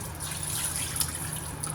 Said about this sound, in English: I rinse out the first bit of it in the sink.